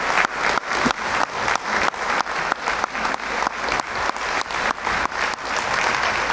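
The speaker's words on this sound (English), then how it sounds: "Would you please join me in a round of applause for the candidates for participating?" A county supervisor candidate forum crowd gives a loud, dense round of applause, fairly close and steady for about six seconds, without speech.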